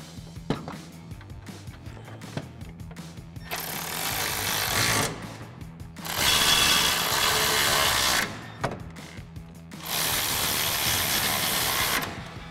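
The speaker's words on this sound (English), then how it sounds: "Now we'll go ahead and tighten down our top mounting hardware using our 16mm swivel socket on our ratchet." A ratchet with a 16mm swivel socket tightens the top mounting hardware on a Toyota Tacoma during a 2-inch suspension lift install, heard as loud, steady bursts of tool noise in three separate stretches with quieter clicking and shop noise between them.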